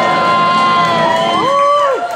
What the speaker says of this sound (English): I need everyone to clap and cheer as loud as they can right now